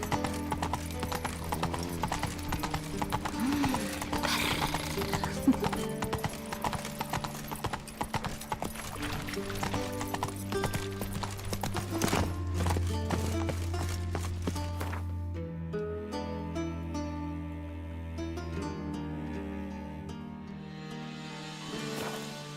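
Roach, a horse in The Witcher 3 video game, gallops with steady, rapid hoofbeats over a full game soundtrack, the clip-clop clear and close throughout while the music swells and thins toward the end.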